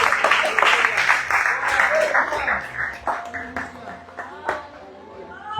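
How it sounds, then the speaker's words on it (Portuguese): Clapping and applause from a congregation at an evangelical church service, dense and lively at first, then thinning into scattered individual claps as it fades, with no talk over it. "As palmas"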